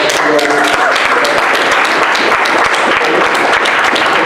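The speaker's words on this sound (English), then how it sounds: "Let's give them another round of applause" Audience applause at an information day event, a dense continuous roar of many hands clapping, loud and close, with brief voices mixed in.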